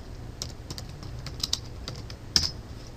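Quick, light keystrokes on a computer keyboard typing a web search, a close, irregular patter of clicks with a few sharper taps and no talking.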